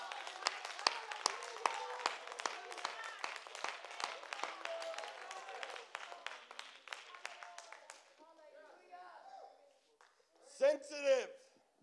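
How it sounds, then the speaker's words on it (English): Many hands clap in a steady, rhythmic beat at a church service, loud and close, then fade out as voices and a shout take over. "Clap your hands."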